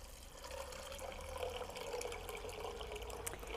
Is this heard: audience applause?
no